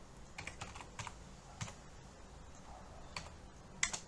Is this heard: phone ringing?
no